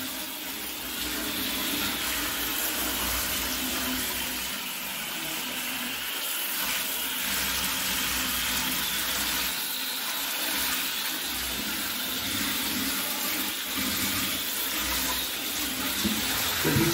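Tap water runs in a steady, close rush while second-hand Exo Terra glass enclosures are washed, with shifting splashes as the flow strikes the surfaces and no talking.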